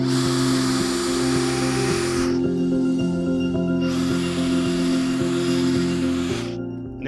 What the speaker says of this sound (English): now I've just got to drill the holes in the end of these